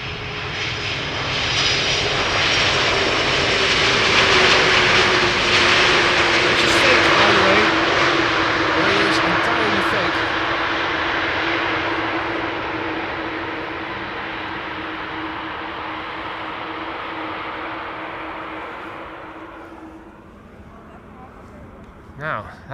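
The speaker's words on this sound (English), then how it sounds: "probably hearing the A350 passing overhead" A Finnair Airbus A350 jet passes overhead at Amsterdam Schiphol Airport, a loud sustained broadband engine roar that swells, holds, then slowly fades away over about twenty seconds, with a steady tonal whine running through it.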